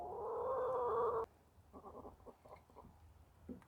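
A hen clucks indoors in a few short, soft bursts after a steady loud hum cuts off, the calls close and fairly quiet.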